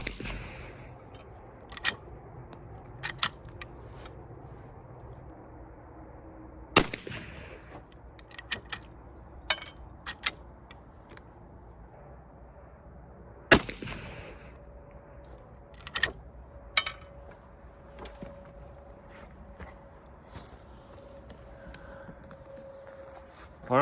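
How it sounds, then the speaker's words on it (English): At an outdoor shooting range, a Taylors firearm fires jacketed 240-grain XTP bullets, giving a few sharp, loud reports seconds apart, mixed with fainter distant pops and small clicks between shots. "we're gonna shoot this jacketed 240 grain XTP"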